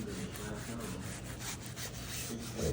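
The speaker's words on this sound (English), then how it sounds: "And look at that, I'm scrubbing it." Black scrub pad rubbing over a rust stain during professional cleaning, a steady close scratchy scrubbing that continues without pause for the whole stretch.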